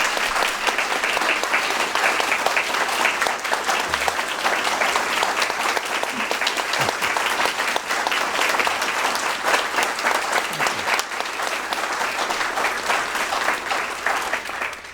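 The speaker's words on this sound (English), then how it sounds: "And now you can clap" Audience applause following a poetry reading, a dense, sustained roar of many hands clapping at steady loudness for the full stretch, with no voices over it.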